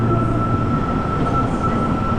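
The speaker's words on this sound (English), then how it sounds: "At the subway station, grabbing our first train." Loud, steady rumble of an Osaka subway train in motion, with a constant whine running over the roar and no voices.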